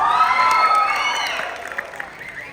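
Audience at Telangana Formation Day celebrations in Malaysia claps and cheers, with high whoops and shouting loud at first, then fading to scattered claps.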